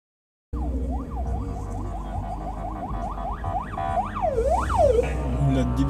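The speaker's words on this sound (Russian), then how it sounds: "Сирена, блядь!" A loud, close vehicle siren wails in repeated rising and falling sweeps that slow toward the end, over a constant rumble of road and engine noise on a street where crashes happen.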